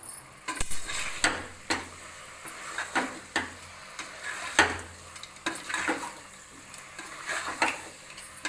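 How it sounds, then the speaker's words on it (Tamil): Rabbit meat sautés in oil with a soft, low sizzle broken by repeated scrapes and clinks of a spoon stirring against the pan, fairly quiet and close. "எண்ணெயிலே கொஞ்ச நேரம் ஒரு 5 நிமிஷம் அப்படியே நல்லா வதங்கணும்"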